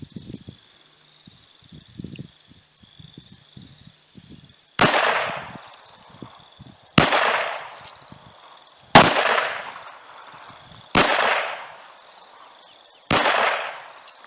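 Five sharp, loud gunshots from a borrowed high-power gun fire at roughly two-second intervals at an outdoor shooting range, each followed by a decaying echo, after a stretch of quiet handling noises.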